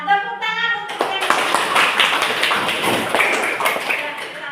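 A classroom of students claps their hands together, a brisk, uneven burst of many claps that starts right after a short voice and continues fairly loud to the end.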